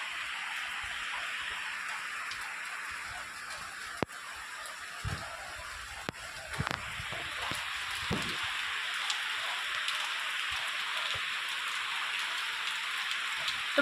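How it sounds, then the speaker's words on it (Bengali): Heavy rain pours outside a home, a dense, steady patter heard from indoors at moderate volume, with a few sharp drips or knocks standing out. "যে আবার শুরু হয়ে গেছে ঝমঝমিয়ে বৃষ্টি।"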